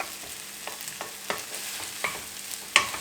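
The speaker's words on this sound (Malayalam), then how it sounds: "എന്നിട്ട് ഒന്ന് ഹൈ ഫ്ലെയിമിലിട്ടിട്ട് എല്ലാം ഒന്ന് ഇളക്കി എടുക്കുകയാണ്." Egg fried rice is stirred in a hot pan over high flame, a soft continuous sizzle broken by repeated scraping and clinking strokes of a spatula against the pan, close up and with no talk.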